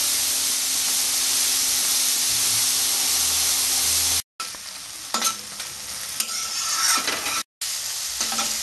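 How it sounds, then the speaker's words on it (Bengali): Turmeric-coated prawns sizzle in hot oil, a steady close hiss with brief clinks and stirring scrapes, cut by two short silent breaks. "চিংড়ি মাছটা একটু লাল লাল করে ভেজে দেবো"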